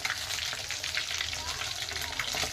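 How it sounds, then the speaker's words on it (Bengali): Marinated chicken frying in white oil for chilli chicken, a dense, steady hiss and crackle of hot oil holding at an even level throughout, close up with no talking. "সাদা তেলে ওই মাখিয়ে রাখা চিকেনগুলো ভেজে নিতে হবে।"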